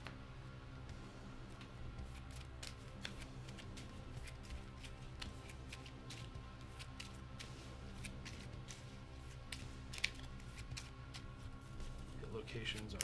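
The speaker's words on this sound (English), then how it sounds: "we need to shuffle our hit locations" Hit location cards being shuffled during a Kingdom Death Monster board game, a steady papery riffle and scrape running throughout over a low background hum.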